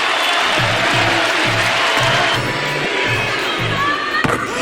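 A big arena crowd at a basketball game cheers Kyrie Irving, a loud roar with rhythmic chanting and claps that pulses steadily under the din.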